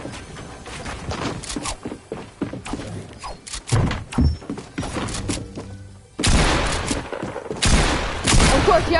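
Pump shotgun blasts in a Fortnite 1v1 build fight, several loud shots and thuds scattered irregularly, with dense bursts of firing and impacts near the end.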